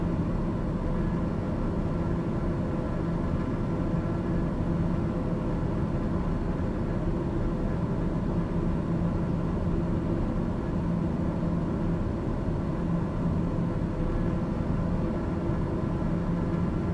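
A light aircraft's engine drones steadily from inside the cabin during a low, short sightseeing flight from London toward Dunkirk, a constant loud hum with no breaks.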